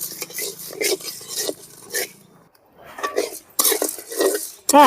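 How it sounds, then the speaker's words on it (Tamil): A spoon stirs split cashew nuts roasting in a pan, with close scraping and clinking strokes in bursts, a brief quiet gap midway and a faint frying hiss beneath. "ரெண்டா ரெண்டா உடச்சி வச்ச முந்திரி பருப்பு பத்து நல்லா பொன்னிறமாக வறுத்து எடுத்துக்கணும்"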